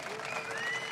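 An audience at the DanceRites First Nations dance competition at Bennelong Point cheers and applauds, a dense continuous wash of clapping and crowd noise that holds steady throughout.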